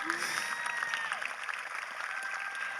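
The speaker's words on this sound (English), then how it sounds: "Please join me in giving a round of applause and appreciation to her." Applause for a graduation counselor at a 2020 Marvin Ridge High School graduation ceremony: steady, fairly faint crowd clapping spread across the whole moment, a dense continuous patter with no clear voices.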